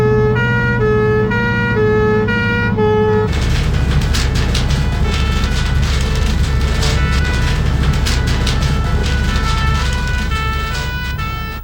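A loud fire engine siren on an emergency run, a steady two-tone wail that gives way to a continuous warbling yelp under heavy road and engine noise, close and unbroken throughout.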